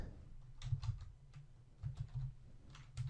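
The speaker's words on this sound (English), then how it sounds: "Let's start typing something there." Keys clatter on a computer keyboard in short irregular bursts of typing with pauses between, quiet and close, no voices.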